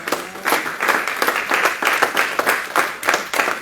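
A church congregation at a teaching meeting breaks into lively applause, dense rhythmic clapping that swells and ebbs in rapid bursts, fairly loud and close.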